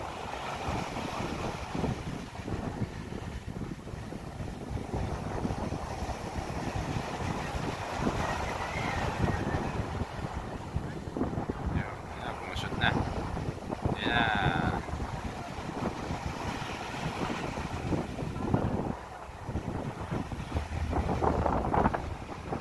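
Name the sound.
wind at sea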